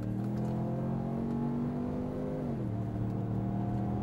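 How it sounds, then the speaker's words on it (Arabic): A 2017 Ford Edge engine revs steadily upward under full-throttle acceleration with the air conditioning on, then drops briefly as the gear shifts and keeps pulling, with a constant droning hum. "شوفوا كيف جير السياره وتفاعله مع المحرك على 60 انا مكيف شغال بدوس فل"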